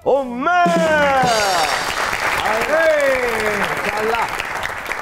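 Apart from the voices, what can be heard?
studio audience applause welcoming guest Zainab Umar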